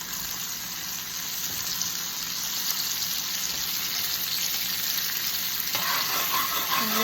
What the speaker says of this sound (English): Let it go to a hard boil.